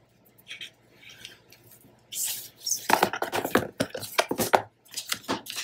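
Scored cardstock being folded and creased for a 9 x 9 four-page mini album base, with soft rubbing and sharp crinkling swipes of paper growing louder and more frequent, close by and with no talking.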